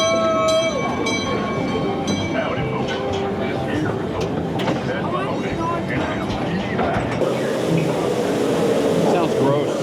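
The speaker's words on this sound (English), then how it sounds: "so instead we'll just jump on a mine cart, do the mine ride" A mine cart ride at Knott's Berry Farm rumbles and rattles along its track, a loud, continuous clatter with a hollow roar that stays close throughout and swells slightly near the end.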